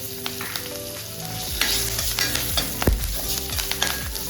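Two green chillies hit hot oil in a tempering for a cashew and bitter gourd curry, making a loud, crackling sizzle with scattered sharp pops and stirring clicks throughout, close up and with no voices.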